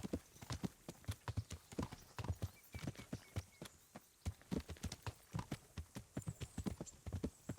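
Horse hooves clip-clop at a steady, brisk pace on a hard surface, a continuous run of sharp, fairly close beats with no voices over them.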